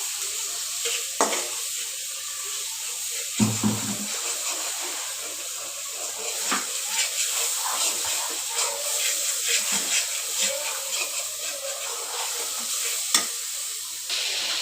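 Spice paste fries in a pan with a soft continuous sizzle, broken by scraping stirs and occasional clanks of a utensil, moderately quiet and close.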